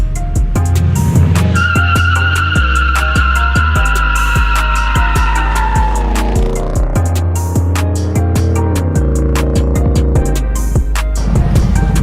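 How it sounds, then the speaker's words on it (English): A cammed 2006 Chevrolet Monte Carlo SS does a burnout, with a loud rumbling, lopey engine under a sustained high tire squeal that rises and shifts pitch, interrupted by sharp crackles and pops, very close and continuous throughout. "I'm gonna do a burnout."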